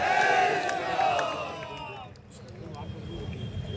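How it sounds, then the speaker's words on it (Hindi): Crowd at a religious gathering in Sikar, India, chanting, shouting and cheering together. A loud voiced chant opens, then a broad, noisy roar of many people continues at a steady level. "जोरदार तालियों के साथ उद्घोष करते हुए जय जय श्री राम।"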